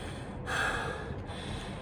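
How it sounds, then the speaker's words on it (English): Heavy breathing during a home pilates workout with dumbbells: one close, forceful breath in the middle, with quieter airy breathing around it. "you can hear my excessive breathing"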